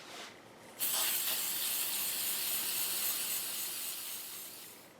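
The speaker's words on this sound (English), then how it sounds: "you can just get cans of, aerosol cans of finish. And that's what I'm going to use on this one." Aerosol can spraying a finish coat onto carved leather, a steady close hiss that starts abruptly after a brief quiet moment and holds at an even level until it eases off near the end.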